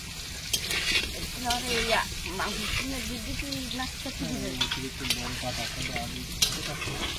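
Potatoes and meat fry in oil in a village kitchen cooking for a crowd, with a steady close sizzle and stirring scrapes while a voice talks over it.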